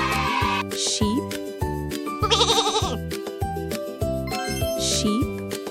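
Sheep bleating in several wavering calls, interleaved with a bright jingling, tinkling tune and steady musical backing.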